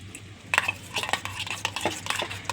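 A spoon stirs a fish roe omelette mixture with chopped onions in a bowl, producing a steady run of close scraping and clinking strokes with no talking.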